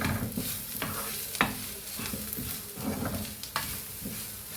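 Spices with coriander powder frying in a pan for a cashew coconut tomato egg curry, a close steady sizzle broken by repeated scraping stirs, with no talk.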